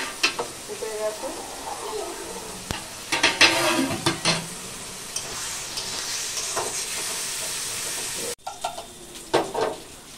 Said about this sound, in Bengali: ভাতটা একটু নাড়িয়ে দিই, ফুটে গেছে।